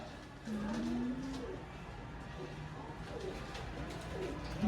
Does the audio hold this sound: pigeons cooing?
yes